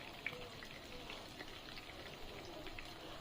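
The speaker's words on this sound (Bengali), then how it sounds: "দিয়ে দিলাম আস্ত কাঁচামরিচ, পেঁয়াজ কুচি, তারপর একটু লাল করে ভেজে নেব।" Chopped onion and whole green chillies fry in oil in a pan for chicken curry, giving a steady, even sizzle with soft crackling throughout, fairly quiet and continuous with no talking.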